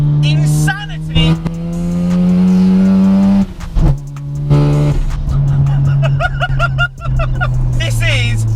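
A wide-arch Mazda RX7 FD with a big turbo and screamer pipe revs hard up close, the rotary wail climbing and dropping through gear changes, with sharp turbo flutter and bursts between pulls and voices talking over it.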